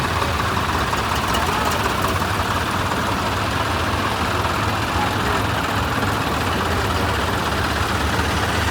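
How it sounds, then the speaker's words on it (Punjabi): Tractors idle together at a farmers' protest rally in Punjab against land pooling, a dense, steady, close diesel rumble that holds without a break. "ਲੋ ਜੀ ਬਈ ਤੱਕ ਹੋ ਗਏ 7 ਟਰੈਕਟਰ ਬਾਕੀ ਇਹ ਅੱਗੇ ਆ"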